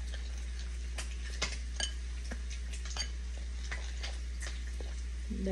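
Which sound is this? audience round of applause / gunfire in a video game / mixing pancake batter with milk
mixing pancake batter with milk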